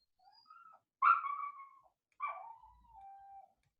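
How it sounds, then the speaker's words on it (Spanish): A dog whimpers indoors in a few short, high whining cries, two louder rising whines among fainter ones, each separated by silence, with no talking. "Creo que voy a tener que ir a callar al perro."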